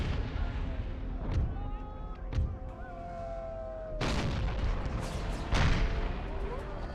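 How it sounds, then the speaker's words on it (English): Cannon and artillery fire in the Empire: Total War video game during a Brothers vs. Brothers mod battle, with repeated booming shots and bursts that rise over a continuous din of battle, with some voices mixed in. "we're getting shrapnel shot from their cannons once again"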